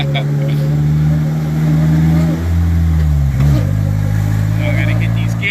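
A car engine holds a steady drone, dips and then climbs again as the gears change. It is loud and close, and a voice talks over it.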